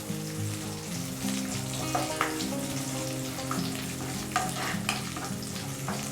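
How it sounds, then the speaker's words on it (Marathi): Green chillies sizzle steadily in a pan alongside garlic cloves for a carrot bhaji, with a continuous close frying hiss and occasional sharper crackles and stirring clinks throughout. "त्यासोबतच आपण इथे टाकूयात हिरव्या मिरच्या छान असं फ्राय करून घ्यायचं"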